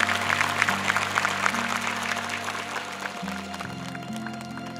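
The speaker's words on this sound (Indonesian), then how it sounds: "Boleh tepuk tangan untuk Aisyah." Studio audience applause on a TV show, moderate steady clapping over a sustained musical backing bed that shifts chords partway through.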